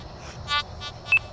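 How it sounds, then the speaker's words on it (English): A metal detector being ground balanced gives a few short electronic beeps over a steady low hum, the last tone the sharpest. "I like letting it beep a couple different times"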